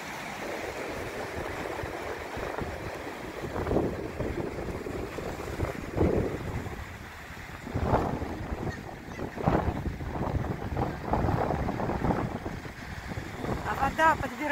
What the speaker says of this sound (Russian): Все, становится все холоднее, ветер усиливается.